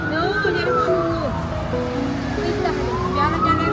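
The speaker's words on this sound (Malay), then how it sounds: "Ambulans. Ambulans." An ambulance siren wails in a quiet city street in Perth, its rising and falling tones sweeping over steady background noise, moderately loud and drifting at a distance.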